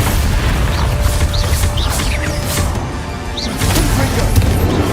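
A Confringo spell blast from Hogwarts Legacy lands as a loud, booming magical explosion. A dense roar with crackling bursts swells, dips briefly, then surges again, alone and close.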